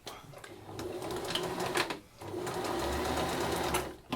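A sewing machine stitches a seam on a reversible Mobius baby apron, running in a steady fast whirring buzz close by, with a brief pause midway before it starts again.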